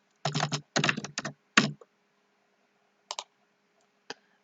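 HTML code is typed on a computer keyboard at close range: several quick bursts of key clicks, then a pause and a couple of isolated taps against near silence.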